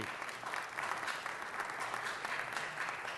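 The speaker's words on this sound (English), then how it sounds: "Give him a round of applause." Audience at a city council meeting giving a round of applause for a Vietnam veteran, a steady dense clapping from the crowd, fairly distant and soft, sustained throughout.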